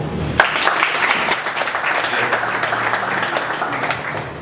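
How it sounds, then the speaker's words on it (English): Applause from an audience at a book premiere, a dense, steady wash of many hands clapping that starts abruptly and continues at an even level. "he deserves an applaud"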